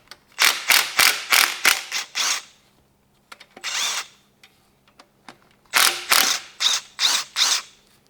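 Ratchet wrench turning over the crankshaft of a BMW S85 engine from an E60 M5, several bursts of rapid clicking pawl strokes with pauses between them, close and loud with no talk.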